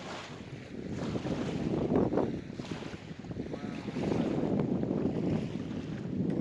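Strong wind buffets the microphone over waves lapping on a large reservoir at Huai Kai, a continuous rushing roar that swells and eases, with a brief voice heard once.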